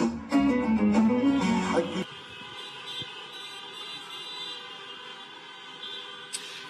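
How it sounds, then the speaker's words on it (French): Car horns sound across Tunis streets at night as residents celebrate the 2019 presidential election result, with a loud burst of honking and crowd noise at first, then sustained distant horn tones lingering at lower volume. "vous l'entendez, c'est par des klaxons que beaucoup de Tunisois célèbrent l'élection de Kais Saïed très largement ce soir"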